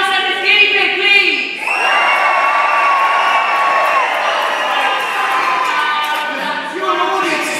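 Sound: audience screaming and cheering for Giles and his guinea pig

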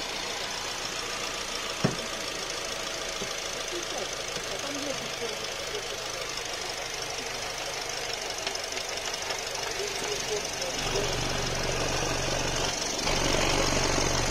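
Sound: car engine idling

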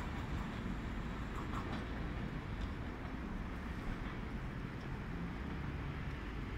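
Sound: through train passing station on track 1

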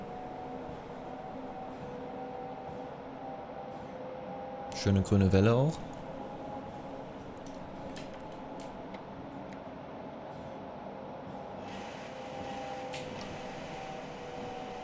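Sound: Berlin S-Bahn train running in Train Simulator 2022 video game

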